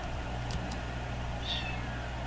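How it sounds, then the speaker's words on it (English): A cat gives a brief, faint meow partway through, heard over steady background noise during gameplay. "if you heard that, don't bother, it's just the cat I saved."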